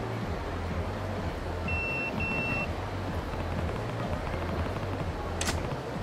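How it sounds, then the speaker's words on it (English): Electronic pager in Yakuza 0 beeps in two short tonal bursts over a steady low engine-like game ambience, moderately clear and alone without talk. "Ooh, the pager's beeping."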